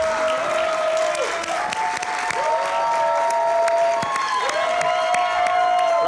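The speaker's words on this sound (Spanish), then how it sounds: "¡Dale un aplauso, por favor!" Enthusiastic applause and cheering from a live audience at a competition quarterfinal, dense continuous clapping with rising shouts and whoops, while a voice talks over it.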